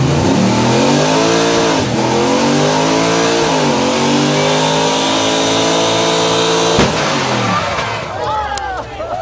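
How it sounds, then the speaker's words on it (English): A car engine revs hard as in a burnout, rising and falling in repeated loud, close pitch sweeps with a short break near the end before climbing again. "It's like doing a burnout."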